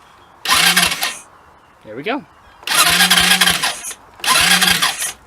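A Hammerhead 250 SS go-kart engine starts up loudly, then runs in three bursts of revving separated by short gaps, with a voice speaking briefly between the first two.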